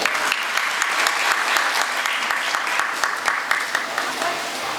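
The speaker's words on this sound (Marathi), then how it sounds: "एकदा जोरात टाळ्या वाजवा" Audience applause at a public event honouring local donors, steady dense clapping from a crowd that holds at an even level throughout without fading.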